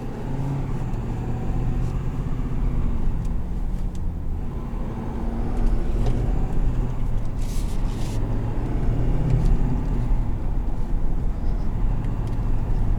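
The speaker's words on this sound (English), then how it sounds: "this Power Stroke sounds really good" A 2020 Ford F-250 Super Duty with the Power Stroke diesel engine rumbles steadily and up close, a continuous low drone that swells slightly midway as the engine works harder.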